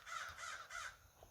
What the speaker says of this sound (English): All the crows just showed up.